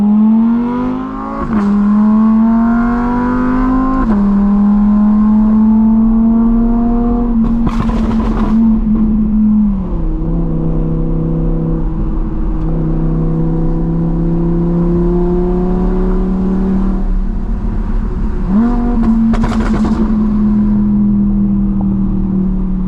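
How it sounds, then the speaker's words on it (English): A 1000-horsepower Audi R8 with a very loud exhaust accelerates hard at night in Miami, its engine roaring up through the gears with sharp shifts and crackling bursts, loud and close throughout. "this car already has an insane exhaust, bro. It's actually might be one of the loudest R8s in the world"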